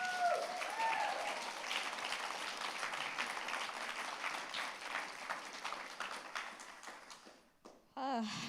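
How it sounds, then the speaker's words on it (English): Sustained applause from a large TEDxVCU Illuminate audience for the event's team, broad and steady with some crowd voices and a voice mixed in, thinning out near the end before a brief burst. "Please, another round of applause for our playing team"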